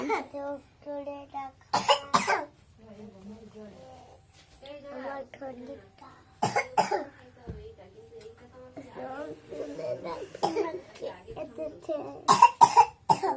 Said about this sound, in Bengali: কি হলো কাশি কেন